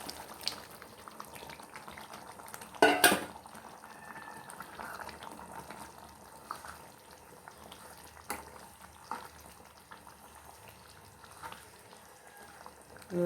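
Anchovy fish curry simmering in a pot after the fish goes in, a low steady bubbling throughout with a brief louder clatter near the start.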